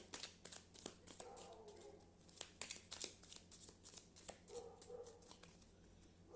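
Tarot cards being cut and shuffled by hand for an Aquarius reading, a close run of soft papery riffles and taps with quiet room tone and no talking.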